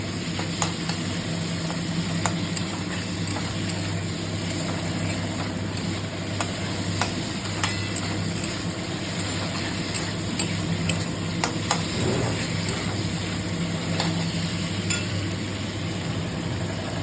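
Prawns frying in a pan, a steady close sizzle with occasional stirring scrapes running continuously throughout, no voices.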